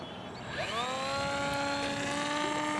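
A 68-inch Storm Chaser RC model plane on its maiden flight, its electric motor whining in a steady high tone that sweeps upward and then holds as it passes overhead, fairly faint and alone without talk.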